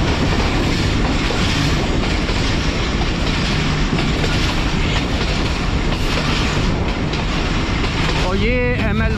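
The Sialkot Express runs on the ML1 track, its wheels giving a loud, continuous rumble and rhythmic clatter throughout, with a brief squeal near the end.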